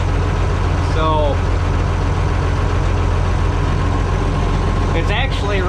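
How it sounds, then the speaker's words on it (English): A truck engine idles while parked, a steady low rumble running throughout, with brief higher chirping sounds near the start and the end. "Granted, it's just sitting here idling, but it's still running."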